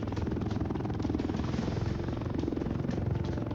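Steady, loud rotor and engine drone of a transport helicopter in the Roblox game War Tycoon, running continuously throughout with a dense, even thrum and no talk over it.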